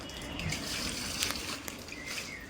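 Tap water pours steadily into a container for drinking water, a continuous close splashing rush with no talk.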